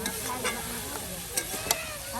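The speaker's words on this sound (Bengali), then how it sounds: "দেখুন এখন হাগরা ডাটাগুলো দিয়ে এই যে মশলার সাথে মিক্সড করে নেওয়া হচ্ছে।" Hagra stems are stirred with spices in a hot pan for a village-style meal, with a steady sizzle and close scraping strokes and a couple of sharper clinks.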